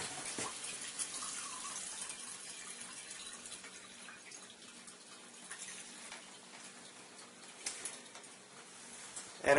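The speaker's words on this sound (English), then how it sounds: "as we run the water through the machine, we'll be making Kangen water" Water running through a Kangen water ionizer, a soft, steady hiss and trickle that continues for several seconds with no voices, heard at low volume, with a small clatter near the end.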